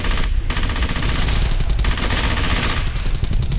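Loud, close automatic gunfire from a weapon in the World War II shooter Brothers in Arms: Hell's Highway, a rapid, dense burst of shots sustained for several seconds with no talk over it.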